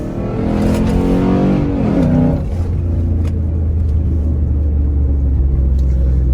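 A Jeep Commander underway with the engine revving up, then easing off into a steady low rumble as it cruises, close and continuous with no voices.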